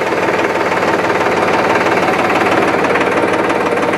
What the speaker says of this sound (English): Funny how these diesels have that knocking sound